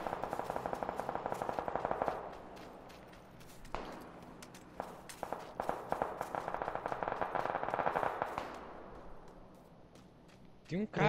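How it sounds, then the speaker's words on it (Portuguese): Rapid automatic gunfire in the video game PUBG, loud bursts of repeated shots in several strings with short gaps, close and sharp, with brief rattling between bursts. "Tô atirando na esquerda"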